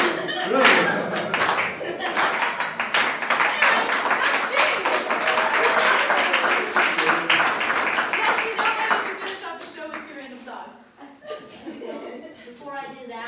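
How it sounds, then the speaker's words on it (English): Audience clapping their hands at a comedy show, crisp repeated claps mixed with chuckles and laughter, fading into a speaking voice near the end. "can I just get everybody to start clapping their hands?"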